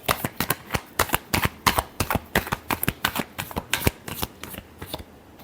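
Tarot cards are shuffled close up, making a rapid series of crisp riffling flicks and slaps, about a dozen sharp bursts in quick rhythm, heard alone without talk.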